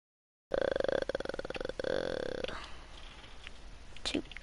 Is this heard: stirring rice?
no